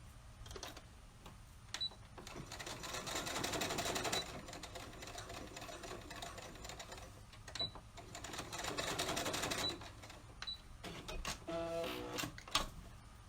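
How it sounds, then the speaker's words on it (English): A sewing machine back stitches a fabric face mask, a faint rapid mechanical rattle running in bursts over several seconds, with brief pauses and light clicks near the end. "I'm going to back stitch over this first before I flip it back over."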